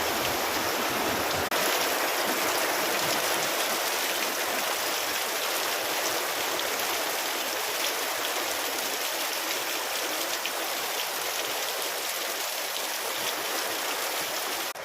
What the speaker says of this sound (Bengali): দেখো জোরে জোরে বৃষ্টি হচ্ছে